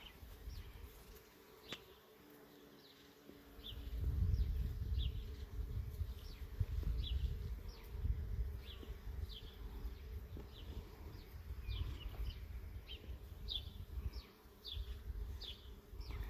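Honey bees forage around a backyard hive among flowering trees, a continuous low buzzing with individual bees passing close, steady over outdoor ambience.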